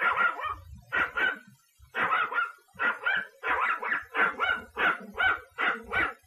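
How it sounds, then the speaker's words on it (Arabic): A dog barking repeatedly in a rapid, rhythmic series of sharp, close barks, about a dozen in quick succession with brief pauses, with a few lower growly notes mixed in. "اهدأ أيها الكلب."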